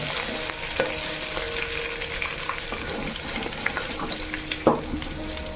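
Green chillies frying in oil for a chicken masala in a clay handi, a steady soft sizzle with occasional stirring scrapes and small pops, close and moderately quiet, with no talking.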